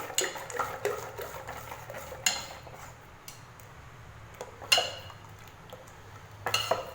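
A spoon clinks and scrapes against a bowl in quick irregular strokes while stirring urad dal batter, with a few sharper taps standing out, fairly close and quiet otherwise.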